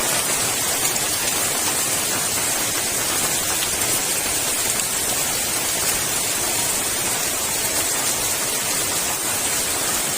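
Heavy rain pours down steadily at night, more than an hour into the downpour, as a hammock camper shelters outside; a dense, unbroken hiss fills the whole stretch with no talking.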